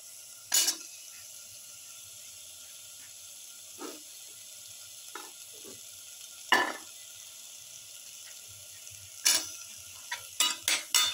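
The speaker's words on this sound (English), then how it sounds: "Carefully mix in the carrot pieces." Carrot pieces being stirred into lamb stew in a pot, with a soft steady sizzle beneath scattered scraping and clinking stirring strokes, faint at first and busier toward the end.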